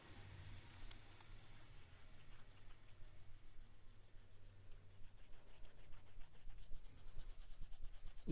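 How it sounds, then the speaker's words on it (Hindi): A rubber eraser rubbing out pencil writing on paper, a faint, close, rapid rhythmic scratching that grows slightly stronger toward the end, with no one talking. "रबड़ ले लेते हैं और मिटा देते हैं"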